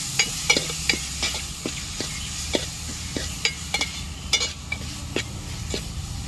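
Tomatoes and spices frying for a mutton curry are stirred with a spatula, giving irregular clicks and scrapes against the pan over a steady sizzle, close by and without speech.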